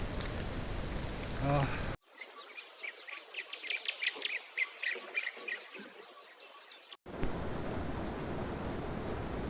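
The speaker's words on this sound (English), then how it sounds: "It's raining heavily now." Heavy rain falls along the Annapurna Base Camp trek in Nepal as a steady close hiss, with chirping insects or birds and a muffled stretch in the middle.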